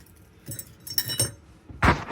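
Silver keys for the entry door and storage compartments of a Jayco Jay Feather Micro 171BH camper trailer jangle in a few short metallic bursts, ending with one louder close shake.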